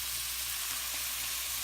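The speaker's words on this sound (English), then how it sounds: "Okay, that is really starting to sizzle." Curried tofu scramble sizzles in a pan, a steady close hiss of frying that holds evenly through the short moment.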